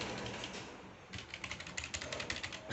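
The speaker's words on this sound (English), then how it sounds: "I love the sound of this keyboard" Quick, crisp keystrokes rattle on a computer keyboard close by, a fast uneven burst of typing after a brief quieter moment.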